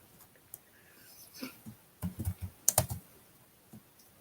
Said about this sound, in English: Yeah, I know you're probably hearing me typing.